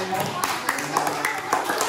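Rhythmic hand clapping from a group in a classroom-style gathering, a quick series of sharp claps in a steady beat, moderately close.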